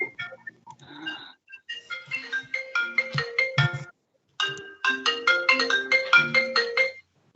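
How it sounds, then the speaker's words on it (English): Mobile phone ringtone sounding during a historic district preservation commission meeting, a chiming electronic tune playing in repeated phrases with a brief pause midway, loud and near, with no speech over it. "Somebody's phone is on."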